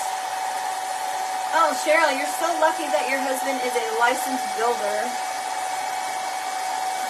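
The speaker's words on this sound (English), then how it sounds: "You guys, I have to use my blow dryer." A blow dryer runs steadily throughout, a loud constant whine with a fixed pitch, while women chat over it at a crafting session.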